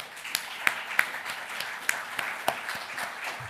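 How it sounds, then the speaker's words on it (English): Audience applause at a live lecture event for the Holberg Prize laureate, scattered, fairly faint clapping with a few sharp individual claps standing out over a soft background wash. "we should give them a round of applause"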